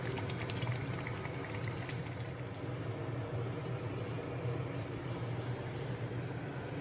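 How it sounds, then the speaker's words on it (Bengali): Water is poured into a pan of cooking meat curry as a steady, dense rushing and bubbling wash that holds evenly throughout, close and fairly loud. "এখন আমি পরিমাণ মতো জল দিয়ে দেবো"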